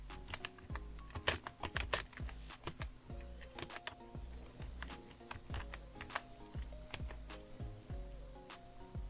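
Someone types a paragraph on a computer keyboard, a steady close patter of quick key clicks with irregular spacing and occasional heavier taps, as if from a spacebar or backspace. No voice is heard over the typing.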